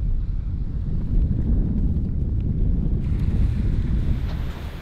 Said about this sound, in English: Of course, now the wind is picking up.